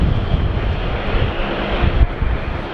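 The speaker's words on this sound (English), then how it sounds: "Here we go, Qantas A380 taxiing." A Qantas Airbus A380 taxies at windy Sydney Airport, its broad, steady engine roar loud and close, with gusting wind buffeting the microphone throughout.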